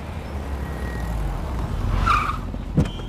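A car slows and brakes to a stop on a street, low engine rumble building, then a brief tire squeal and a soft thump at the end.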